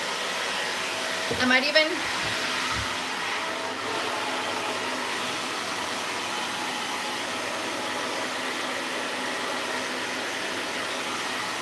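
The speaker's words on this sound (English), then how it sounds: "So now I'm gonna dry my roots first while I have these clips in." A hair dryer runs steadily while drying hair roots held up with clips, a constant loud airy blowing from start to finish, with a brief spoken phrase near the start.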